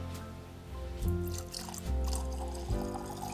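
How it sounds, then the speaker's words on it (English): Whiskey poured from a bottle in a garage, a soft liquid gurgle that swells in three short surges over a low, steady background. "I wasn't going to long pour it because it's not my bottle"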